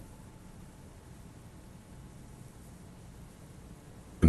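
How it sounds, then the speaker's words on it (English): Long-distance call in Disco Elysium: a low, steady wash of static crackle and white noise, faint and unbroken throughout, with a brief louder click right at the end. "Your air fills with a crackle, the wash of a strange ocean full of white noise."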